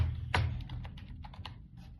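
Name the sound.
typing on a computer keyboard, entering vehicle number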